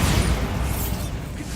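A Bombarda explosive spell goes off in the Hogwarts Legacy video game, a dense, steady low rumble of blast and debris that holds at an even loudness for its short length without fading.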